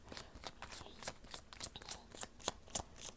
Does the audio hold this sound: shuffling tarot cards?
yes